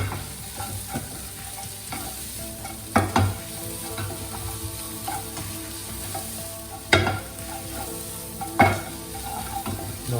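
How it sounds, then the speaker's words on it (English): Sliced mushrooms sauté with onions in a pan, giving a steady close sizzle throughout with soft stirring scrapes and three sharper knocks of a utensil against the pan. No one speaks. "I'm going to toss it a bit in this onion and mixture"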